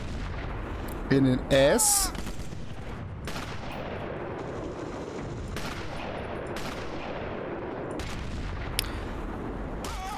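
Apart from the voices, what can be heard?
sniper rifle shots, video game Sniper Elite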